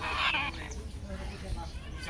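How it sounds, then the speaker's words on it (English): A yellow-naped Amazon parrot lets out harsh, raspy screeches likened to a dinosaur raptor, loud and close, with a burst at the start followed by rougher squawks over low background rumble. "He sounds like a velociraptor, Jurassic Park."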